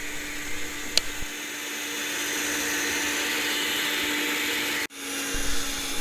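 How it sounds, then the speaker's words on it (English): An electric mixer drones steadily as it beats a cookie mixture until shiny and fluffy, a close, even whine that cuts off abruptly and then restarts. "Now you have to beat this till it's shiny, fluffy, and it just holds the peak when you raise the whisk"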